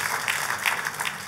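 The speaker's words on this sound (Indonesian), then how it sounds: "Kita kasih tepuk tangannya yang paling meriah buat Tuhan kita." A church congregation claps in a brief, dense burst of applause for God during a sermon. The clapping is close and lively, with no voices over it.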